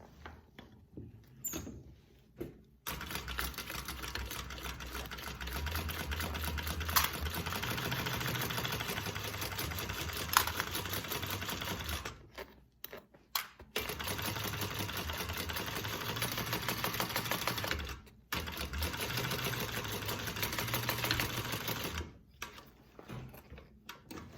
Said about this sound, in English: And we're going to sew this. I'm going to go just over a hair of a 1/2 inch seam allowance.